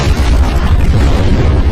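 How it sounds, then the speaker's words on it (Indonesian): Vesper's tomb explodes in a James Bond film, a loud, deep rumbling blast with heavy low-end roar that sustains throughout the short moment. "makam Vesper tiba-tiba meledak"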